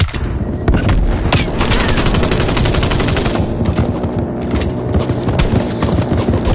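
Rapid, continuous minigun fire in a video game, loud and dense with sustained mechanical rattling, briefly stuttering at moments throughout.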